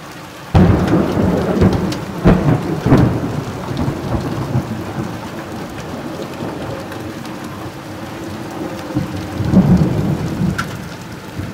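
Loud thunder cracks and rolling rumbles during a heavy thunderstorm in Jelgava, Latvia, over steady pouring rain, with sharp booms early on and another strong roll near the end.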